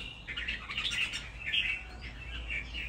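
A caged songbird chirps repeatedly in quick, bright bursts, fairly faint and heard over a steady low background hum with no talking.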